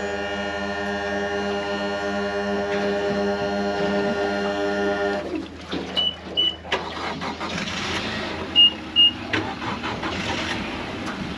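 Outboard boat motors being started for a trip onto the water as winter approaches: a steady engine drone that cuts off midway, followed by cranking and short bursts as the motors catch, heard close with no talking.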